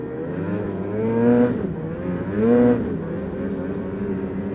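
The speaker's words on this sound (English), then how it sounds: "These things are so quiet, these 600 Etecs." A Ski-Doo 600 Etec snowmobile engine runs steadily close by, a smooth droning hum that swells twice in brief revs before settling back to idle.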